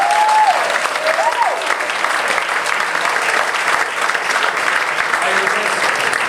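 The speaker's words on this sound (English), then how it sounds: "give Chris a round of applause" Audience applause for a volunteer coming up on stage at a hypnosis show, a dense, steady wash of clapping from a room full of people, loud and sustained throughout, with a few brief whistles near the start.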